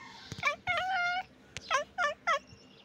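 A pet fowl named Sona calls out in a short burst of loud, gobbling cries, a few separate squawks and trills in quick succession close by.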